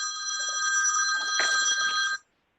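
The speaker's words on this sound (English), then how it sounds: "Not used to having phone calls in the middle of a meeting." A telephone rings steadily and loud through a meeting room for about two seconds, a continuous electronic trill, then cuts off abruptly into silence.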